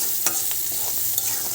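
Onions with salt sizzle softly in a pan for a pangas fish bhuna, a steady fry punctuated by a few quick stirring scrapes, with no voices.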